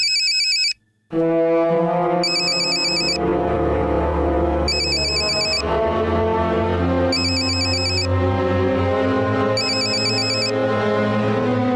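A phone ringtone plays after a call is dialed, a loud synthesized melody looping continuously with regular bright chime accents every couple of seconds, following a brief silence at the start, with no talk.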